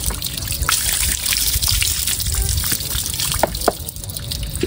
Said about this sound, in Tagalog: Hugasan pa po namin ng isa pa po yung pusit para po talagang malinis.